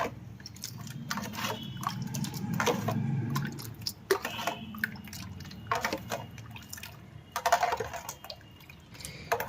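Pani puri water being stirred with black salt and plain salt, about a litre in a pot, giving soft wet sloshing and dripping sounds with a low steady rumble, a few brief clinks, fairly close.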